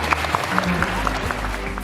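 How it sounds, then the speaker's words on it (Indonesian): Applause breaks out at a santri literary community event, audience claps under a low, droning background, with a few sharper hand claps standing out in an uneven rhythm. "Bagus sekali, tepuk tangan."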